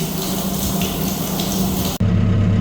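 Liquid pours and gushes steadily through a restored sprayer, a loud close rush that briefly cuts out and then resumes with a deeper flow.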